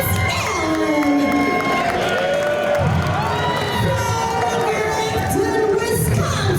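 A wrestling crowd cheers and whoops continuously for a local challenger named Iron Mike at a live event, a dense roar of voices with shouts rising over it, while an announcer speaks over the noise.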